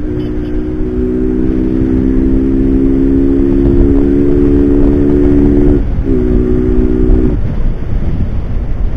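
A steady engine drone from a moving Tifan motorbike ridden in the city, with a sustained harmonic hum that breaks briefly near the end amid wind rush.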